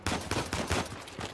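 Video game gunfire in Uncharted 4, loud close bursts of automatic shots firing in quick succession over a short stretch, with no speech.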